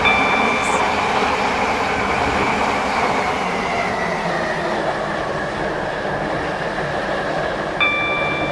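A train on the Stepford County Railway in a video game rumbles steadily along the track, a loud continuous rolling drone with faint tonal whines above it.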